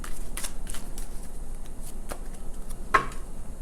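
A tarot deck is shuffled near and fairly softly, giving light riffling card flutters and taps in irregular bursts with no voices.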